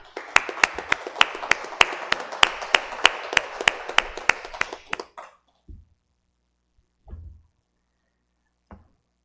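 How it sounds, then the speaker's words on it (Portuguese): Applause for Valdoir at a gathering, a brisk run of steady hand claps lasting about five seconds that stops abruptly and leaves a few faint knocks and shuffles in near silence. "Uma salva de palmas para o seu Valdoir aí."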